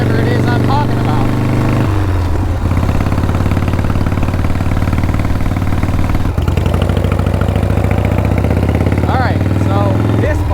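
A Frankenstein shovelhead chopper motorcycle, a 1971 engine in a 1974 frame, runs with a loud, steady low rumble throughout while someone talks over it.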